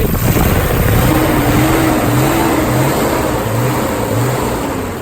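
A Nissan Skyline GT-R R32 with about 55,000 kilometres on it accelerates, its engine note rising and shifting through gears, loud and close, alone without talk.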